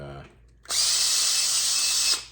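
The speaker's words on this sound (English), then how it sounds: "Now we take our multifunctional drill thing and" A power drill runs steadily for about a second and a half, cleaning primer pockets on 45-70 rifle brass during reloading, a loud close high whine that starts abruptly and stops, with brief talk just before.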